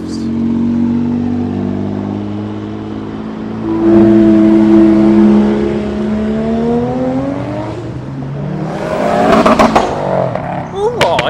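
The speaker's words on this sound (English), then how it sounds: "the next XJ220 is departing" A Jaguar XJ220 supercar pulls away at an outdoor car show, a loud engine rumble that rises as it revs and accelerates, then fades with crowd noise and people talking.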